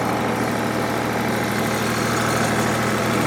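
Tractor engine idling steadily with the PTO engaged, a constant close rumble with a broad mechanical whine running unbroken throughout, no voices.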